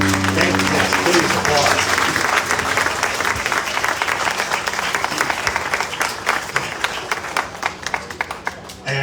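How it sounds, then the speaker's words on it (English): An audience claps at a park ribbon-cutting ceremony, with dense, loud applause that continues steadily and thins slightly toward the end, with faint voices mixed in. "applause"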